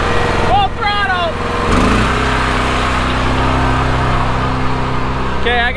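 A farm engine running hard at full throttle, a steady loud drone with a rising whine, while a voice shouts over it near the start.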